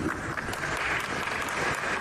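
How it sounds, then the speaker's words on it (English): An audience gives a steady round of applause, a short, even patter of many hands clapping at moderate loudness. "He got a round of applause."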